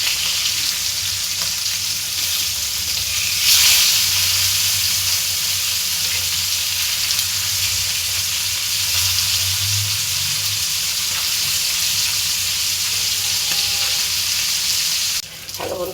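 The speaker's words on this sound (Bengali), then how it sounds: "আমার মাছ তেলের পরে কেমনি ফ্রাই করছি" Dhela fish fries in hot oil as a steady, loud broadband sizzle that runs the full length, with a brief louder crackle burst early on and a sudden cut near the end.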